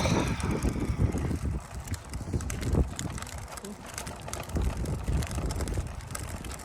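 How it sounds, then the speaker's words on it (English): Gusty outdoor wind buffets the microphone with steady low rumble and rushing, close and fairly loud throughout, with faint bird calls and occasional voices in the background. "it's a little bit of wind"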